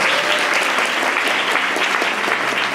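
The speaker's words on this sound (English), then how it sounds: "let's also give a big round of applause to Raghav and Rao on the mic." Steady, dense applause from a music festival audience, continuous and fairly loud throughout with no voices over it.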